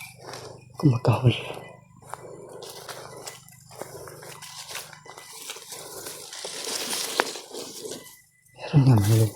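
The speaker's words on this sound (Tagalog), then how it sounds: "kumakahol." A dog barks a few times nearby at the start and again at the end, with people talking in between and over it.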